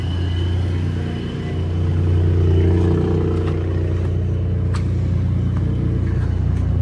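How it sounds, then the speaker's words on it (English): A truck engine with a ProCharger supercharger runs at a steady, close idle, a heavy low rumble with a faint high whine layered over it and occasional light clatter. "Hear the nice whistle of the Pro Charger."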